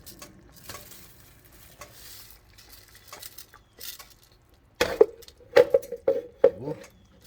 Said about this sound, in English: Add in the rice.